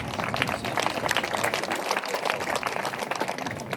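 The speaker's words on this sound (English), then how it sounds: "Give Lawrence a big round of applause." Crowd at an outdoor groundbreaking ceremony gives a round of applause, dense continuous clapping at moderate level for the whole stretch, with no talk over it.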